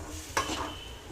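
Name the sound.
stirring goat blood fry in a pan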